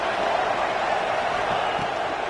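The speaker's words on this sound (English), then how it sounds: "this crowd bearing down and getting loud on third down" Roaring football stadium crowd swelling on a third-down play, a steady, dense wall of noise with no breaks, loud and continuous throughout.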